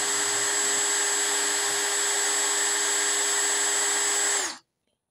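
A Dewalt DCD709 cordless brushless drill spins steadily at its lowest speed setting, a loud continuous whine with a steady tone that cuts off abruptly near the end.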